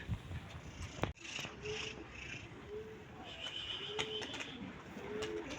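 Soft, repeated cooing of a young pigeon in short low phrases, with a sharp click and windy outdoor background noise around it.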